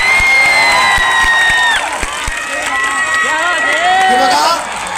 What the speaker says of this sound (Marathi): सर्वांनी टाळ्या वाजून सुजात दादांचं स्वागत करावं